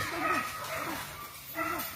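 Hunting dog barking and yipping during a morning wild boar hunt, a few short excited calls in bursts at moderate distance, fairly faint against the outdoor background.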